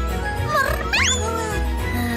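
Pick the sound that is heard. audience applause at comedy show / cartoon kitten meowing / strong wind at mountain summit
cartoon kitten meowing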